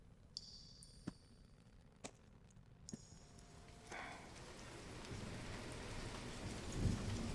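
Heavy rain pours down during a storm, a steady wash of downpour that swells louder toward the end, with a few sharp isolated taps early on and no talking.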